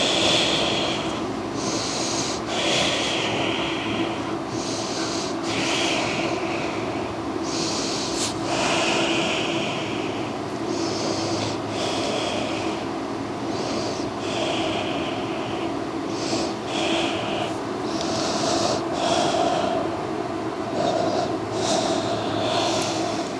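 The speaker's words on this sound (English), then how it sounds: "Hands to the feet, we take an inhale and exhale." Slow, deep breathing during a yoga class, with repeated audible inhales and exhales, sometimes snort-like, rising and falling in a steady rhythm over a constant background hum.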